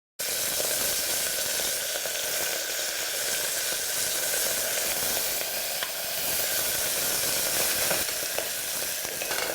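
Mint leaves sizzle steadily in hot oil alongside golden-fried cashews for a vegetable dum biryani, a continuous, close frying hiss with no voices throughout.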